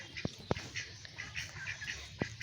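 Chinese ducks in a chicken coop, with a few soft quacks and calls at close range and three sharp knocks or taps between them, all fairly quiet.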